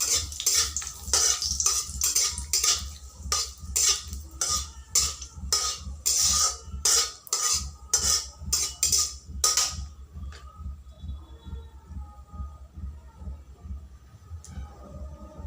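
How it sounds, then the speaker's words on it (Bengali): Chopped onion dropped into a pan of lightly fried cumin gives a run of rapid clattering scrapes and pan knocks for about ten seconds, then a quieter faint sizzle with a low steady hum underneath. "পেঁয়াজ কুচি দিয়ে দিচ্ছি।"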